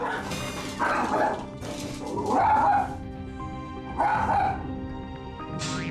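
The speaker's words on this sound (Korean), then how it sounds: "보호자를 쫓아내고도 분이 안 풀리는지 한참을 으르렁거리는데요" A dog growls and barks in several close, agitated bursts, with whimpering yips between them and no talking.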